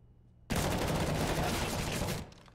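A sustained burst of rapid gunfire, likely MAC-10 submachine guns, rips out in Counter-Strike on the Mirage map, loud and dense for nearly two seconds before cutting off abruptly.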